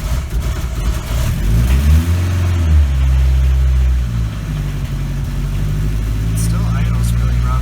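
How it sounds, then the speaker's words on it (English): A 1986 Ford Escort diesel wagon engine idles roughly with a low, uneven rumble, then swells into a rev and settles again, close and loud throughout, with someone talking over it. "There's like some input shaft or something bearing noise, and then it sputters until I rev it"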